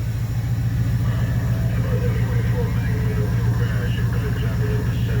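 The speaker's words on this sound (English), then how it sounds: "You hear that CB radio going?" CB radio chatter crackles over the idling engine of a Ford Galaxie 500, with radio voices running continuously above a steady, close, low engine hum.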